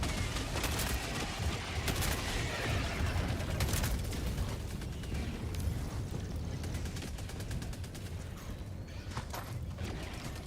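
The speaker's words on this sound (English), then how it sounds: "He's using that killzone sniper." Killzone sniper rifle fire in Helldivers 2 mixed into a dense battle soundscape, with repeated sharp cracks over continuous rumbling gunfire and explosions, fairly faint and steady.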